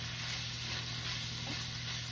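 Green peas, ground pork, onion and garlic frying in a pan, a steady close sizzle with light stirring throughout, no talking.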